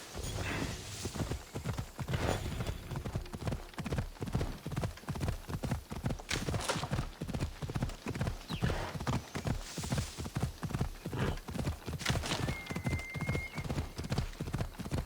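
Steady clip-clop of a horse's hooves at a trot in the video game Assassin's Creed Odyssey, close and continuous throughout, with a brief whinny partway through.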